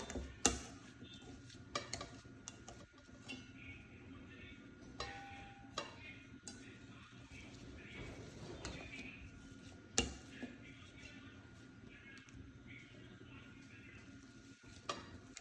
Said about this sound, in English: First, mash the potatoes.